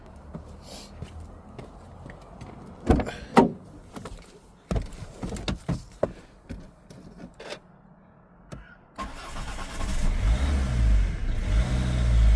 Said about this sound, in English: Just keep the revs up in case there's any air in the system.